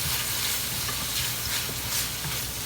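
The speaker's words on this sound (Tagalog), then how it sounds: "At pagkatapos po ng ating bawang sibuyas at ginger, atin na pong ilalagay ito pong ating shrimp." Shrimp frying in a pan with garlic, onion and ginger for a Filipino vegetable stir fry, giving a steady, close crackling sizzle with bursts of spattering throughout, no voices.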